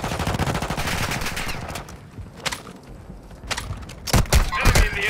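Gunfire in the video game Call of Duty Warzone: rapid bursts of shots crackle throughout, thinning in the middle before loud, close bursts return near the end, with faint game voice callouts in the mix.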